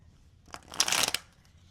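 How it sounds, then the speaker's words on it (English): Tarot love cards being shuffled and drawn, a quick crisp riffle of card edges building to a dense flutter then stopping, close and quiet with no voices. "Let me pull some love cards."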